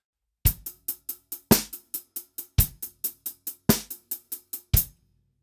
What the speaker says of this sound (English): a basic 10/8 groove is gonna have quintuplets in the right hand.